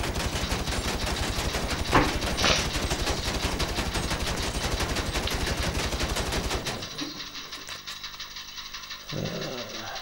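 Assault rifle fire in GTA V during a tank armor test: a rapid, loud automatic burst of evenly spaced shots that lasts about six and a half seconds, then cuts off, leaving quieter game sounds.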